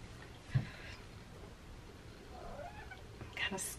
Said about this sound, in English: Cats are just circling around me, begging.